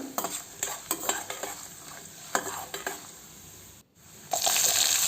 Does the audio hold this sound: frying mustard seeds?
yes